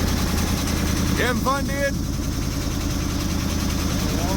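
A 1973 Plymouth Satellite with a stroker big-block engine idles steadily while warming up, a loud, constant low rumble close by, with a brief spoken exchange over it.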